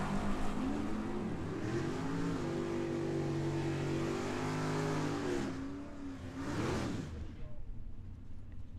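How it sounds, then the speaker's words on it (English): A drag racing car doing a burnout at Tucson Dragway, engine revving loudly with rising and falling tones, then tapering off into a rougher exhaust rumble; a voice speaks over it. "Burnouts."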